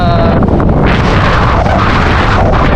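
Loud, continuous wind roars and buffets the microphone throughout, a dense rumbling rush with no pauses.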